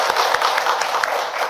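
A Korean book concert audience claps steadily through the whole stretch, a dense, even patter of many hands at moderate loudness, with no voices over it.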